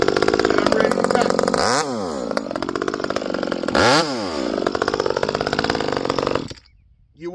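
Ported Echo 2511t chainsaw with a modified bar and muffler, revved loud and close in two sharp rising-and-falling throttle blips over a buzzing idle, then cut off abruptly near the end.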